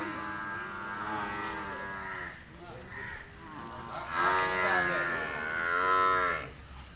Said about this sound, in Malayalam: ഇവിടെ വലിയ പോത്ത്, താഴെ ചെറിയ പോത്ത്.